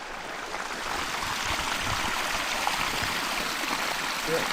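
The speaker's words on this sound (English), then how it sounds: "That's way more water coming out of that than I expected." Rainwater gushes out of a pipe into a farm field, a steady broad rushing and splashing flow that stays loud and continuous throughout.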